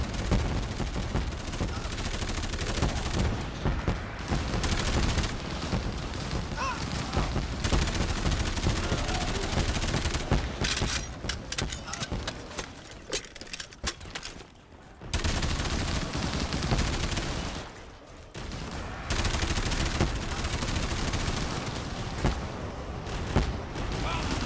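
Sustained machine gun fire in a Black Ops 3 Zombies gun game match on the Rust and Dome maps, dense rapid bursts running almost nonstop with brief gaps, loud and close, with a voice occasionally under the gunfire.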